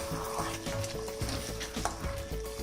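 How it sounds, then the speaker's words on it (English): Spiced mutton for Bengali kosha mangsho stirred over high flame in a pan, a busy close sizzle broken by repeated scraping strokes of the spoon against the pan, with a faint steady tone underneath. "We have to stir for a minute or two at high flame"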